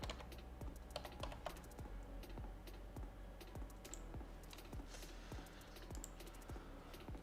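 Rapid, irregular keystrokes on a computer keyboard, close and fairly quiet, clicking continuously with short pauses and no talk.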